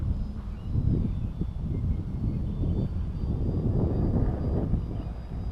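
A small Hobby King Kinetic Flight RC plane flies overhead, giving a steady, soft airy drone with faint high motor whine and wind rush, continuous and moderately distant.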